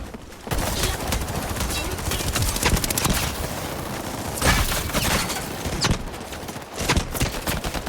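Rapid automatic gunfire and shotgun blasts in the video game Highguard's 5v5 mode, dense overlapping bursts nearly continuous throughout, loud and close, with brief gaps and a few heavier booms.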